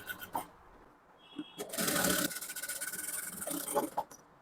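A sewing machine stitches a halter neck blouse, a short burst of rapid mechanical whirring running for about a second amid quieter handling noises and rustling fabric.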